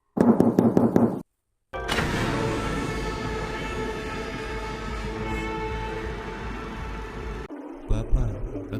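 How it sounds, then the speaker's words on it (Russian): Knocking comes from behind a wall: a quick series of muffled knocks opens the scene, followed by a long, low rumbling drone. "За стенкой кто-то постучал."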